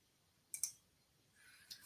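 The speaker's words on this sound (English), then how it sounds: "Oops, typing the wrong things here." A few quiet key clicks from a computer keyboard, a short cluster near the middle and another at the end, faint and close against a quiet room.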